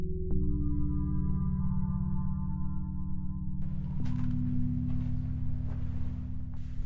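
A Ghost Detector phone app's sound effect: steady layered electronic drones and tones, joined partway through by a hissing static wash, fairly faint and continuous.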